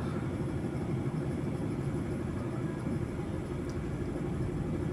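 A steady, broad roar fills an airliner cabin cruising at high altitude above the clouds on a flight from Kathmandu to Riyadh, constant and even throughout, with no voices.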